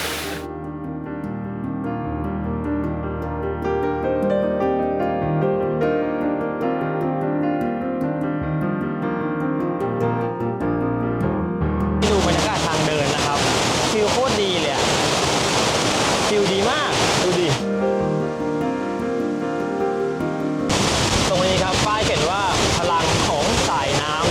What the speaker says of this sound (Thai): ได้ยินเสียงแล้วใช่ไหมใช่แล้วมันคือน้ำตก